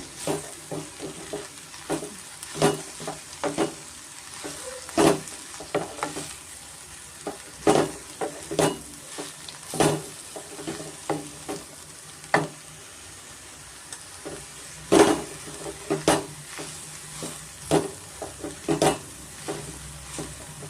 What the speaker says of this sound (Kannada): ಸೊಪ್ಪು ಚೆನ್ನಾಗಿ ಎಣ್ಣೆಯಲ್ಲಿ ಫ್ರೈ ಆಗಬೇಕಾಗುತ್ತೆ ಅಲ್ಲಿವರೆಗೂ ಮಿಕ್ಸ್ ಮಾಡಿಕೊಟ್ಬಿಟ್ಟು ಇಡೋಣ